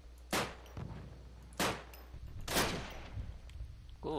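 Gunfire in the Call of Duty 1 video game: three or four sharp, loud shots with echoing tails, spaced a second or so apart, plus a short electronic warble at the end.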